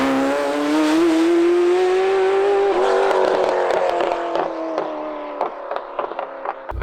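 A Ferrari F40's engine revs hard on the move, a loud rising harmonic drone that climbs through the gears before dropping into choppy, popping overrun bursts as the car backs off.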